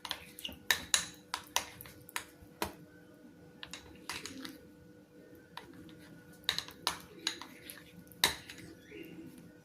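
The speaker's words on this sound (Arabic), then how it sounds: "نزيدوا عليه معلقه ديال زيت الزيتون، وغادي نخلطوا المكونات" A spoon stirs ingredients and olive oil together in a bowl for a homemade natural face cream. Irregular bright clinks and taps of the utensil against the bowl come in quick bursts over a quiet background.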